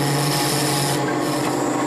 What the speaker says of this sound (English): Now I've switched to a 3/8 inch gouge, and I'm going to work on this section right here, creating a cove